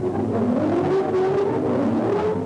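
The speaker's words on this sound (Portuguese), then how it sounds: "Motor supersônico." A steady whirring engine-like drone with a rising pitch from a 1:18 scale Kaiser Henry J toy model car's motor sound, revving continuously up close.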